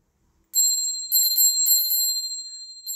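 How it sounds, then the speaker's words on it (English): A small metal bell rings with a bright, sustained tone, struck several times in quick succession so the ringing overlaps and slowly fades, close and loud with no talking. "I have a bell."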